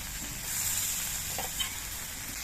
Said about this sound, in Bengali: এবার এর মধ্যে আমি দিয়ে দিচ্ছি কয়েকটা চেরা কাঁচা লঙ্কা